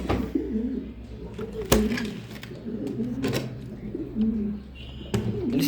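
Pigeons coo in their loft, low murmuring calls repeating steadily close by, with a few sharp knocks and rustles of the birds moving about.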